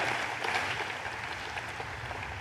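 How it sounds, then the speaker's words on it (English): Sustained applause from a rally crowd in Milwaukee, an even, continuous roar of clapping with no voices over it. "Kim and Scott, please give a round of applause to these guys"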